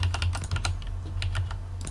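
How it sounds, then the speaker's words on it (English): Loud computer keyboard typing, close and dry: quick irregular bursts of key clacks in short clusters with small gaps between them, heard alone over a low steady hum, with no speech. "This keyboard might actually be very loud for this."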